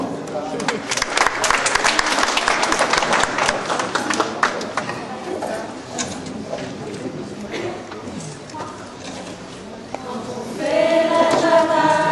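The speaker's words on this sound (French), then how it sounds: "Applaudissements." Audience applause at a French song performance, a dense crackle of many hands clapping that fades gradually, then gives way to a voice toward the end.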